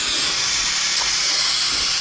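Steady, loud hiss of steam venting from a Tefal pressure cooker during a beef stew cook, a continuous broadband rush with no pauses and no one talking.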